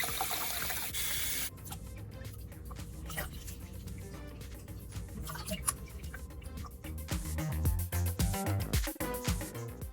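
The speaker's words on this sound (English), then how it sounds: "First, you want to just run some warm water on it and just kind of rinse it and get it clean." Warm water pours from a tap over sea moss in a kitchen sink as a steady broadband rush. Irregular clicks and splashes of handling and rinsing grow busier toward the end.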